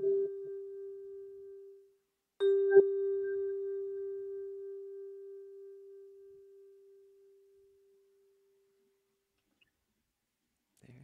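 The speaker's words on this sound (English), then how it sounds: "let's get started with our three chimes" Chimes struck during a children's chapel service: a single clear tone fades out, then a second strike rings and decays slowly into silence, with a faint sound at the very end.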